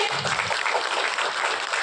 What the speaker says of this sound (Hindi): तो जोरदार तालियों से बजाते हैं हम दृष्टि जी के लिए।